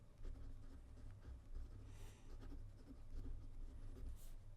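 A Lamy 2000 fountain pen writes in black Takisumi ink on Rhodia paper, giving a soft, faint scratching of nib strokes under a steady low background hum.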